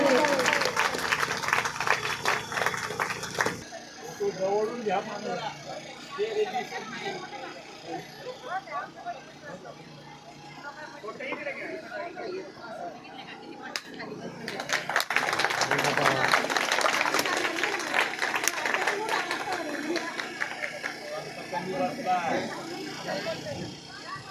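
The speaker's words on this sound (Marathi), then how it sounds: "सर्वांनी जोरात टाळ्या वाजावे." A crowd claps loudly at a childhood-memories get-together in Babhulgaon, with a strong burst at the start and a longer, sustained round later, while a voice talks through the quieter stretch between.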